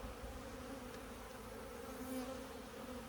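Honey bees working over an old comb inside an Alaskan hive give a steady, dense buzzing drone, close and continuous for the whole stretch without a break.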